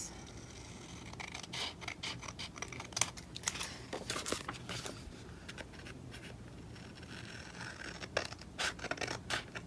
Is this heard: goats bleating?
no